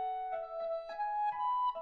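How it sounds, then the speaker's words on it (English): Clarinet recording processed with added reverb, a sustained melodic line of steady tones with gentle breathy note changes every few tenths of a second, soft and roomy. "And then I hit apply. And then it adds reverb."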